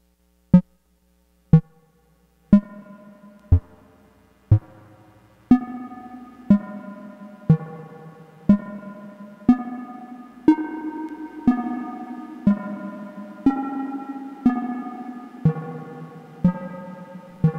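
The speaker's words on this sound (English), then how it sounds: "Let's add in some reverb." A Eurorack spring reverb tank colours a steady run of synth notes struck about once a second; the first few ring dry and short, then each note picks up a lingering splashy tail that smears into the next.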